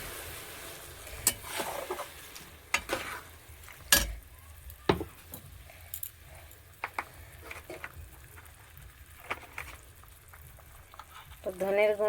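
Spices frying in a pan as water is added, giving a soft continuous sizzle with scattered clinks and stirring scrapes, and a voice briefly near the end.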